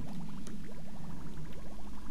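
Water pouring from a steam geyser pipe in the video game Oxygen Not Included, a continuous gurgling, bubbling flow with rapid trickling detail, steady and fairly loud throughout, with no talk.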